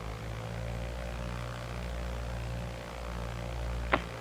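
A Cessna 172 Skyhawk piston engine held at 1800 RPM, heard from the cockpit as a steady, loud propeller drone with a constant low hum and no change in pitch. A brief click comes near the end.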